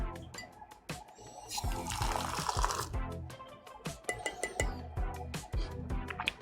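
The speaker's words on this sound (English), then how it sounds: "Let me rinse out my cup." Water splashes and swirls inside a cup being rinsed out after pouring homemade cranberry cider, with clinks and knocks of the cup, close and uneven in bursts.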